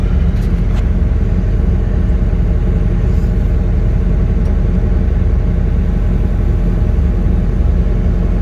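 Kubota SVL97-2 compact track loader reversing on an excavation job, its diesel engine giving a steady, loud, low rumble that holds constant from start to finish with no talk.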